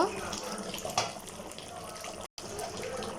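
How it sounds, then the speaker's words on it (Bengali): Water is poured into a cooking pot of meat, a short close splashing trickle that runs over a faint background for a few seconds, with a brief gap near the end. "এবার অল্প একটু পানি দিয়ে দিব।"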